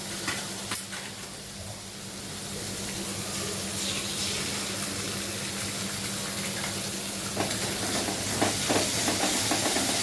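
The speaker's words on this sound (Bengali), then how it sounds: "এখন হচ্ছে মশলাটা কষাচ্ছি" Spice masala with tomato sauce and soybean fries in a pan, giving a steady, close sizzle for several seconds with a few scattered clinks and stirring sounds, no voices.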